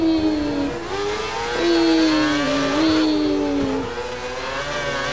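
A Formula 1 race car in F1 2012 sweeps through a corner, its high engine note sliding down and climbing back as it shifts, a steady loud whine with no talk over it.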